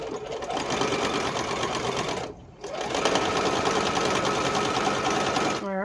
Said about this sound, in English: I just start stitching again on the way back